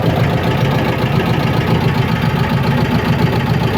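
A cold T-25 tractor engine with thin oil idles steadily and close by, a low, even rumble with a faint knocking rhythm and no voices.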